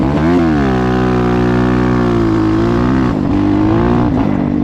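A 2021 GEON GNS 300 motorcycle pulls away from a standstill in third gear, its engine droning loud and close. The engine climbs in pitch, dips briefly near the end, then picks up again.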